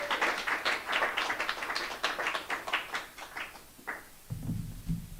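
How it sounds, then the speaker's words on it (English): Audience applause for an author at a book talk, a small crowd's scattered clapping that fades after about four seconds as a voice begins to speak. "Let's give our author a round of applause."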